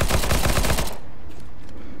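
Rapid automatic fire from a P90 submachine gun in Counter-Strike: Global Offensive, a dense loud burst of shots for about a second that cuts off into quieter game ambience, with no talking.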